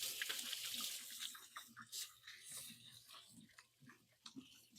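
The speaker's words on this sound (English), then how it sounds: "I'm going to wash my hands." Hands are washed under a running kitchen tap, with a faint hiss of flowing water and soft splashing. Low snorting, grunting sounds come through quietly underneath.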